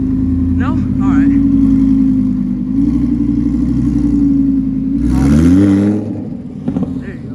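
A Mercedes E63S engine revs at a supercar rally in Monterey, giving a loud, sustained roar with a sharper rising surge near the end, while people talk over it.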